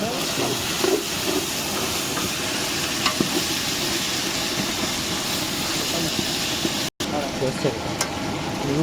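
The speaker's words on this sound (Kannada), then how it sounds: "ತಿರ್ಸು ತಿರ್ಸು ತಿರ್ಸು ಎಲ್ಲ ತಳ ಹೊಡಿತೇವೆ" Chicken biryani being stirred in a pot, a steady scraping and sizzling hiss running throughout with a brief gap near the end, close and fairly loud.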